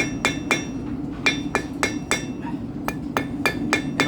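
Hand forging a point on an awl fire steel: about a dozen sharp ringing hammer blows on metal, struck in a quick uneven rhythm, close and clear with no talking.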